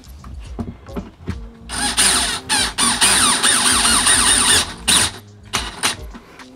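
Power drill driving screws into drywall anchors while installing a solar floodlight: a loud, sustained whirring burst of about three seconds with pitch sweeps, broken by short pauses and followed by brief spurts near the end.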